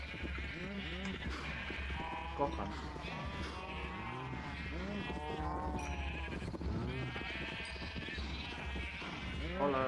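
Sheep in the Minecraft video game bleat repeatedly in short, wavering calls, mixed in under almost continuous talking and in-game sounds.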